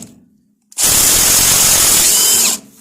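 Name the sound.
impact wrench removing nut on Jeep TJ suspension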